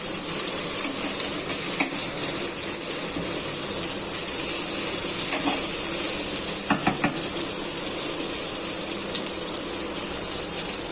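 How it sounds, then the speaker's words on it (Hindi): Potatoes are stirred with a ladle in a pan over a high flame, with a continuous close sizzle and occasional soft scrapes and clinks of the ladle, and no talking. "अब हमने फ्लेम तेज कर दी है और चमचा चला रहे हैं"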